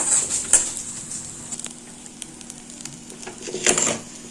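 Tempering spices with asafoetida fry in a pan with a light sizzle and scattered crackles, plus sharper pops near the start and again toward the end, close by and without speech.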